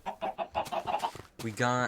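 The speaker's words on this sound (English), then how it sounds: "My chicken coop has expanded by a lot. I think there's like 10 chickens in there, maybe." Chickens clucking inside a Minecraft coop holding around ten birds, a run of short, evenly spaced game clucks followed by one louder, drawn-out squawk at the end.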